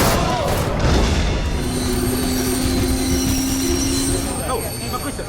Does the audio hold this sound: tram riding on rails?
yes